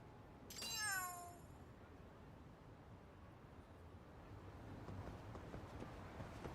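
A cat meows once in a Yakuza video game side mission: a single short, rising-and-falling cry near the start, over steady game background ambience with no talk.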